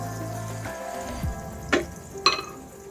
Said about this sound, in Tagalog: tunawin muna natin yung ating unsalted butter ang ating ginamit